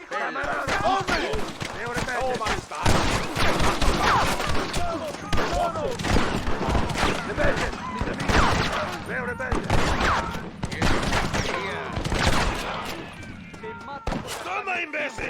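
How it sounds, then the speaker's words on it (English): Dense, continuous gunfire fills a shootout in the video game Red Dead Redemption, with rapid overlapping shots and booms rolling on nonstop while voices shout over the fray. "These men try to kill you! Shoot them, Joe!"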